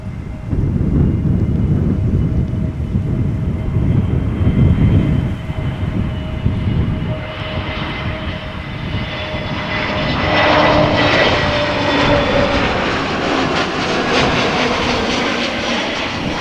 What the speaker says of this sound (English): this A320neo that is arriving from London